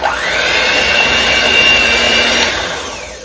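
An electric mixer beats an egg into sourdough lemon pound cake batter, a loud, close, steady whirring drone that rises at the start and tapers off as the mixer slows.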